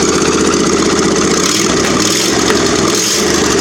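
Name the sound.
engine idling after repair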